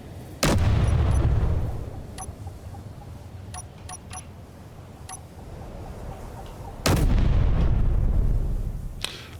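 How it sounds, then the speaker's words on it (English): Assault cannon turret firing in the game Space Engineers, two heavy booming shots several seconds apart, each with a long rumbling tail, separated by a slow reload with faint metallic clicks between them. "So you can see it takes a little longer to reload between shells on this assault cannon."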